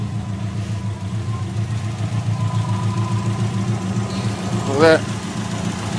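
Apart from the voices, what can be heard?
Subaru STI V6 engine running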